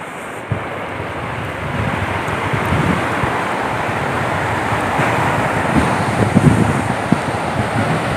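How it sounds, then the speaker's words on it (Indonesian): Strong wind at a beach in bad weather: a loud, continuous roar buffeting the microphone, with surf rumbling underneath and a few brief knocks, with no talk. "Anginnya cukup kencang guys di sini guys."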